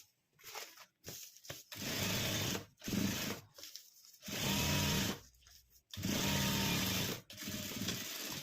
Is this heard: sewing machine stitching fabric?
yes